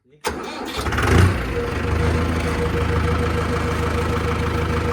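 A Ford 605 tractor of about 50 horsepower cranks and fires after a brief silence, then settles into a loud, steady, rumbling idle close by.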